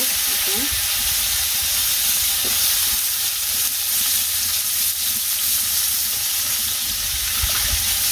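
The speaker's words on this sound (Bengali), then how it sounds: "বেশি ভাজা মনে হয়ে গেছে মাছটাকে" Fish sizzles steadily in a pan of hot oil, a dense bright crackle with occasional soft stirring knocks.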